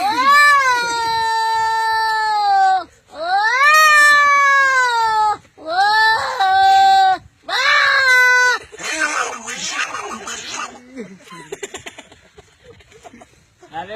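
A voice imitates two cats fighting, with long rising and falling yowls in several bursts followed by rougher, hissing spitting cries, close and loud with no other sounds.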